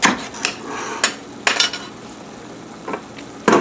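Hamburger meat frying in a pan on medium-high heat for chili, with a steady soft sizzle broken by several sharp scrapes and clacks of a utensil stirring, close and irregular, without speech.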